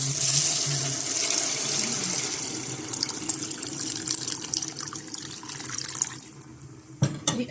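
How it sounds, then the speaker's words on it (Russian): Water pours from a tap into a soup pot holding vegetables and broccoli, a steady close rushing stream that fills continuously before stopping near the end, followed by a clunk. "И заливаем все это водой."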